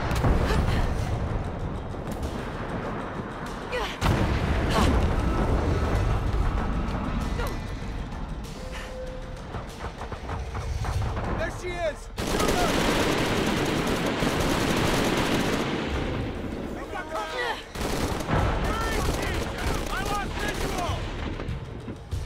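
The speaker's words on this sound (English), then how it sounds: "opening fire!" Gunfire and explosions in Shadow of the Tomb Raider, a loud, sustained stream of rapid shots, booming blasts and crashing debris, close and almost unbroken throughout.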